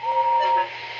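A model steam locomotive, Gordon in HO/OO scale, lets off a steady hiss of steam with a thin whistling tone, loud at first and easing slightly toward the end.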